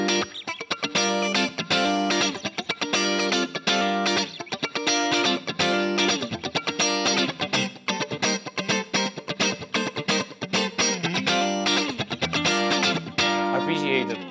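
An electric guitar plays a rhythm part in a clean tone, with chords struck in a tight, repeating pattern. The tone is loud and upfront and carries steadily from start to finish.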